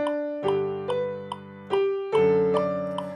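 Piano played at a brisk 144 tempo, notes and chords struck in a quick, steady rhythm, clear and close.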